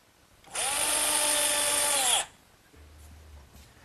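A power drill whirs steadily for about two seconds driving a 1¼-inch galvanized screw into wood, close and loud, then stops abruptly with a faint low rumble after.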